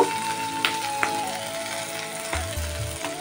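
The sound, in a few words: onion frying in a pan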